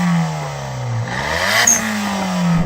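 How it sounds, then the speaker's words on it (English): Small turbocharged three-cylinder engines in Japanese kei cars rev up and fall back in a quick sweep, and a blow-off valve gives a brief hiss near the peak. No voices are heard. "So let's rev up these little engines,"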